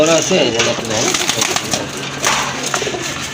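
Large pigeons cooing close by, soft repeated throaty calls over a busy background with some faint human voices.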